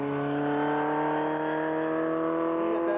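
A Formula Ford race car at a motor racing school drives past with a steady, loud engine drone and strong harmonic whine, holding nearly constant pitch over a few seconds with no talk.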